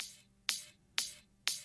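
A high-pitched noise kick sample, pitched up with a shifter plugin for an orchestral downtempo track, strikes three times at an even pace: bright, hissy transients with quick decays, fairly faint, with no talk.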